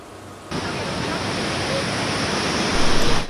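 Sea waves surge onto the coast at Cam An, Vietnam, during heavy rain and strong wind, eroding the shore: a loud, continuous roar of surf and water that builds toward the end, with no talk.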